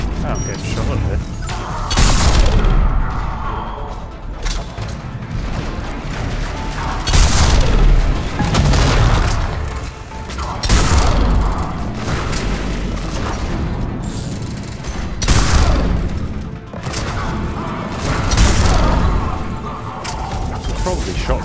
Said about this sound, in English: Oh, I'm getting shot at here.